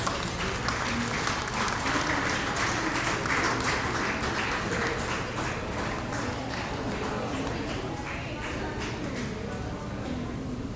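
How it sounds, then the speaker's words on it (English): A conference audience claps in a sustained round of applause, a dense wash of many hands that holds steady for about ten seconds and fades slightly near the end, with faint voices beneath. "Audience, can we have a huge round of applause?"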